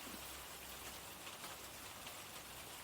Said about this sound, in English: even though the rain's getting in